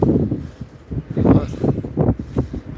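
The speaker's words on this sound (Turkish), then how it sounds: "Rüzgar bayağı var." Strong gusty wind blows outdoors, buffeting the microphone in repeated low, rumbling bursts that swell and drop close and loud.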